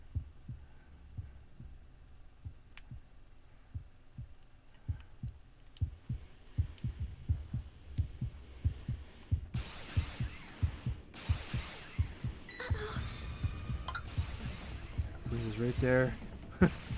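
A low thumping heartbeat pulse from the Dragon Ball: The Breakers video game repeats steadily throughout, joined later by louder bursts of game effects and voices talking over it.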